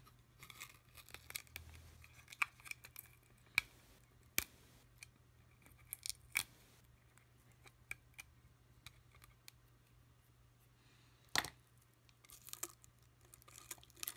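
Faint scattered snips and small crinkling taps as adhesive under a Huawei Honor 6 phone screen is cut during a screen repair, quiet and intermittent over a low hum.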